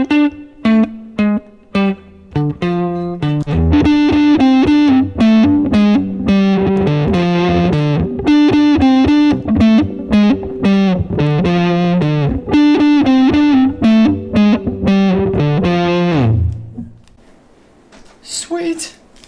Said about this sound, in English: Now let's go to some fuzz.